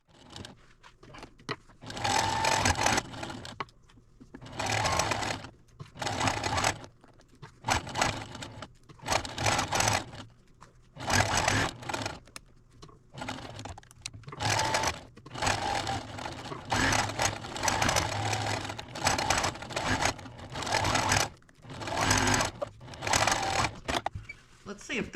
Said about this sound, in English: let's go sew the next row together.